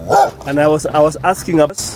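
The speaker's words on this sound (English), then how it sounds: "That's the dog." Dog barking beside a storm-flooded house in New Wood Estate, Juja, a few short barks mixed in with close speech from people talking over it.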